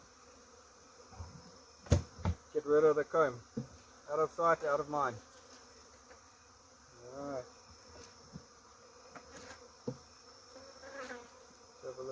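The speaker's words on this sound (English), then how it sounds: "Make sure you get all the bees off." Bees drone in a constant thin buzz while a hive is cut out of a wall cavity, the hum running low and steady beneath someone talking close by and occasional knocks.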